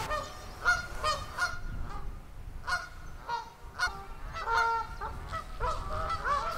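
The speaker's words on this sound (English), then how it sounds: "Marsh Lock is deserted, apart from some rowdy Canada geese." Several Canada geese at Marsh Lock on the Weaver Navigation honk repeatedly in noisy overlapping bursts, fairly close, over a low background rumble.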